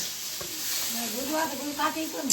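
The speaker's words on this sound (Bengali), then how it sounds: "এর মধ্যে আমি ফোড়ন দিয়েছি" Whole spices sizzle and crackle in hot oil for a Bengali phoron tempering, a steady close hiss with a faint voice murmuring underneath.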